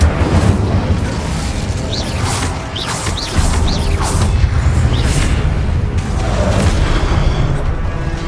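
Spell blasts from Confringo and Incendio fired in Hogwarts Legacy, a run of repeated booming bursts and crackling impacts over a dense, steady rumble of game effects, loud and close throughout.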